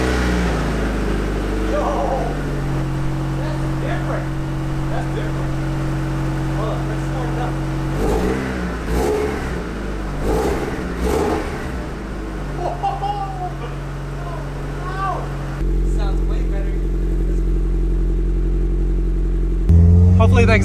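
A Mazda Miata engine starts for the first time with a new exhaust, idling with a deep, steady rumble, then revs and settles again, with voices talking over it partway through.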